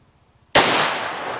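A single loud, close gunshot from a 1911 pistol chambered in .45 ACP, a sharp crack after near silence with a long ringing decay.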